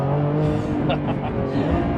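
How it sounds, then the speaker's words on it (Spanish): A Lamborghini Revuelto's 825 hp hybrid V12 screams at full throttle, a loud, dense, continuous engine roar with shifting harmonics throughout, heard close up. "de este V12 de 825 caballos gritando a pleno pulmón"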